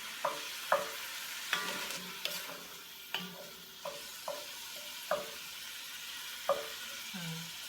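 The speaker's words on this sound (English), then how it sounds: "And then I'll toss the vegetables in, the celery and the shallots and the garlic, to saute with it." Meat sautéing in a pot for chili with celery, shallots and garlic tossed in, a steady soft sizzle broken by repeated sharp scraping stirs at roughly regular intervals, close and alone.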